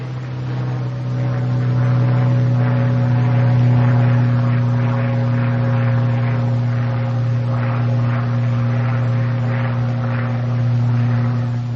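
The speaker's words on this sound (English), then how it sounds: "The supercharger just changed over in a high blower. A jump seems to occur in the engine" A North American P-51 Mustang's piston engine drones steadily in flight at altitude, a loud, constant deep hum with strong low harmonics and a slight swell partway through as the supercharger shifts into high blower.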